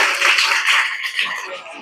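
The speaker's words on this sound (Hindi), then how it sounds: "ताली बजाओ सारे बच्चे इसके लिए" A group of children clapping together in a village government school classroom in Mewat, a dense, steady patter of hand claps close by, lasting under two seconds.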